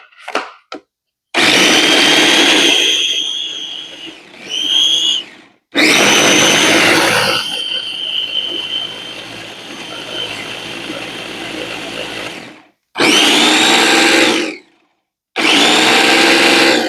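A blender chops and grinds basil leaves in loud, close bursts of whirring motor noise, several runs of a few seconds each separated by short pauses.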